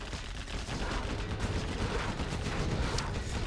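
Rapid Gatling tank gunfire in the strategy game Generals Zero Hour forms a dense, continuous rattling burst of shots with an even, sustained loudness and no talk over it.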